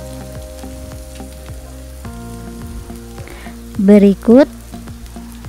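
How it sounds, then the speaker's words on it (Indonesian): Carrots and green beans sauté in melted butter in a wok with a steady sizzle, while background music plays and a voice briefly speaks. "Baru masukkan sayurannya, yaitu wortel dan buncisnya."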